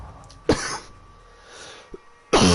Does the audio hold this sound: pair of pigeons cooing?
no